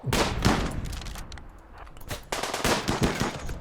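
Automatic gunfire rips through a RimWorld fight against drop pod raiders, dense bursts of rapid shots, a brief lull near the middle, then more sustained firing.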